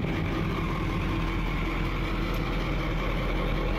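Cat 3208 diesel engine running in the engine compartment of a 1977 Thompson 44 trawler with split exhaust, a steady, close, loud chugging idle with a deep rumble and no voices.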